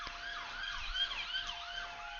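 A police car siren wails, sweeping up and down repeatedly, somewhat distant, with a steady tone humming beneath it and no voices.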